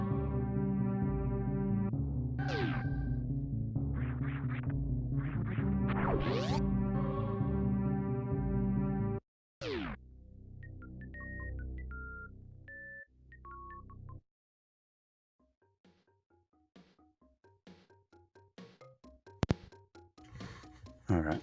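A phone plays a ringtone from Super Metroid as a loud, synthesized electronic melody with tonal notes. It breaks off, resumes, and then gives way to sparse, quieter beeps and tones.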